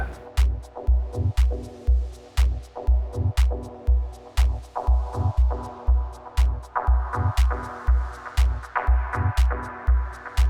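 A techno groove loops a distorted clap tuned to E, hitting in a steady pattern of crisp snaps above a pounding low kick. The mix grows slightly brighter partway through and stays loud throughout, with no talking.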